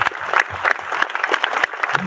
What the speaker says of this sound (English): I want to give a round of applause to those people sitting around you